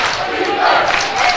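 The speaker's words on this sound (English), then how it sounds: "Student section cheering for defense." A high school basketball student section cheers for defense at a Class 3A game between Lander and Mountain View, a loud, sustained crowd roar that swells midway and stays dense throughout.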